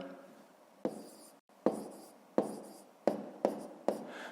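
A pen writes numbers on paper, heard up close as a series of short, distinct scratchy strokes with brief gaps between them and no voices.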